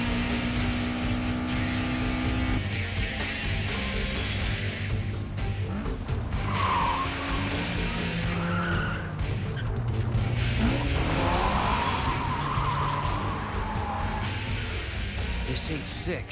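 Tires squeal and skid during an anime downhill race in Initial D Fourth Stage, with sharp screeches rising over a constant loud engine roar, in two bursts that come and go amid the racing noise.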